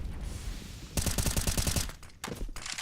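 Counter-Strike match gunfire, a rapid automatic burst of evenly spaced loud shots followed by a short pause and another burst, set against steady game background noise.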